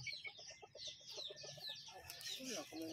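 Chickens on a chicken farm cluck in quick, repeated bursts close by, with several birds overlapping in a busy, chattering flock.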